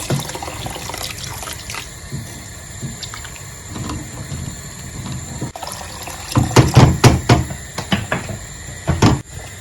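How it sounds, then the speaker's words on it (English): Water runs and splashes into a pot of turmeric yellow rice in several loud bursts near the end, with quieter liquid sounds and light clinks before it. "I'll add more water to this rice."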